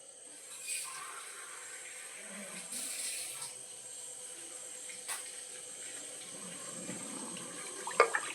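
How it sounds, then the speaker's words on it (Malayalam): A glass of water runs and trickles steadily for several seconds into a pot of little millet for pongal, fairly faint, with a few light clinks and knocks along the way. "ഒരു ഗ്ലാസ് വെള്ളം ഒഴിച്ചിട്ടുണ്ട്"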